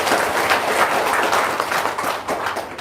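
Audience applause fills a testimony and talk session, a steady wash of clapping from a crowd lasting the whole stretch with no speech over it.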